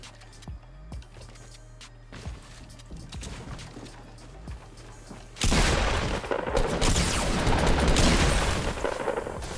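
Gunfire in the Fortnite battle royale video game: scattered sharp shots and impacts at first, then a sudden loud, sustained barrage of rapid shots and crashes that fills the rest of the clip.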